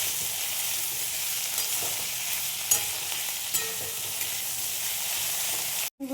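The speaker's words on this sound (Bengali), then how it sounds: "এবার দেব পেঁয়াজ। এবার সব একত্র ভেজে নেব আমি।" Onion frying with flattened rice for chire pulao gives a bright, continuous sizzle with a few light stirring knocks, close and steady, breaking off sharply just before the end.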